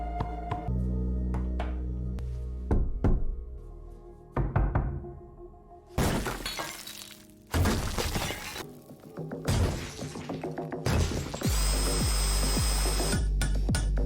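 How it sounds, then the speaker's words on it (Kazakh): Tools clatter and bang through an apartment renovation: sharp shattering knocks, wooden thumps and scraping bursts come in irregular loud clusters, ending in a steady power-tool whine, with no voices. "Пәтердегі бос орынды тауып, жөндеу жұмыстарын жүргізгеннен кейін, құралдардың шуы көрші Оливердің назарын аударады."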